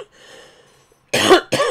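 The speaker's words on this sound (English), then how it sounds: "Coughing attack." Two loud, harsh coughs burst out in quick succession close to the microphone after a stretch of faint background hum, part of a sudden coughing fit.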